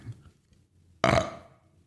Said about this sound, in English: That was a real burp, by the way.